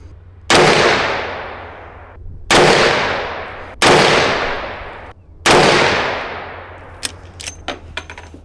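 Four loud, close gunshots fired with Hornady ammunition, each a sharp crack with a long decaying echo, spaced about one to one and a half seconds apart, followed by faint scattered pops.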